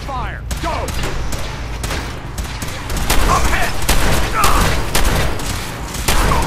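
Rapid gunfire from a Fallout 4 firefight rattles in loud, dense bursts over a deep rumbling bed, with several sharp reports standing out and a shouting voice mixed in.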